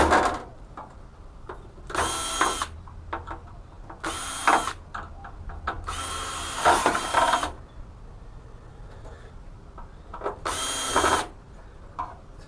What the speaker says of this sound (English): So I'll just undo the screws and take it off the backing.